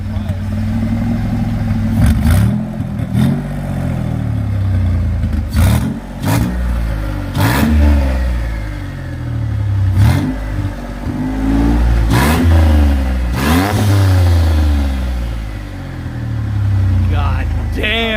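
A twin-turbo V6 in a Mustang runs on its first start, revving repeatedly in sharp bursts that rise and fall over a rumbling idle, loud and close, with excited voices talking and cheering throughout.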